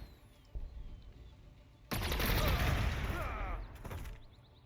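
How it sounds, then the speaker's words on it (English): A T'au bombardment attack in Warhammer 40,000: Gladius: one loud, dense barrage of booming impacts lasting a couple of seconds, then a brief final burst as it fades. "Bombard their position some more."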